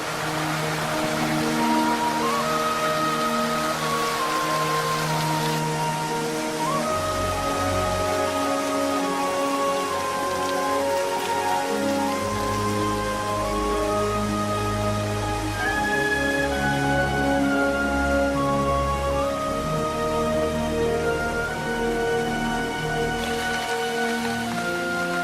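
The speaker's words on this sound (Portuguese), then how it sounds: "A água cai dos penhascos, barulhenta, sobre as planícies secas." Water pouring noisily from cliffs onto dry plains, a steady, loud rushing roar that runs unbroken under a sustained orchestral music score.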